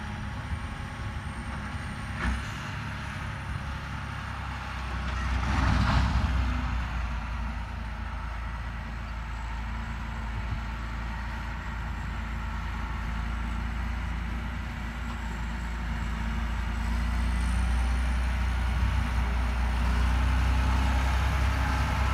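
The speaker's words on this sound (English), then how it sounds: "here comes Jeff with 10 trailers" A semi truck tractor pulling a long train of ten trailers rumbles past, a steady low drone with a louder swell as the rig nears, followed by continuous rolling rattle of the trailers going by.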